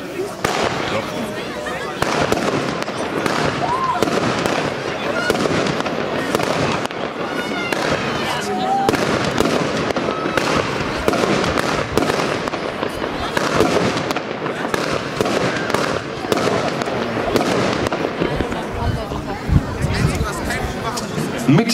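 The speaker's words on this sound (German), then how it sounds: "Rubinroten Sternen, das Rubinfinale, die Laufnummer 10, 13 Schuss Premium Effekt Batterie" A 13-shot premium effect firework cake with ruby red stars fires a dense, continuous run of pops and crackling bursts over a crowd talking and chattering throughout.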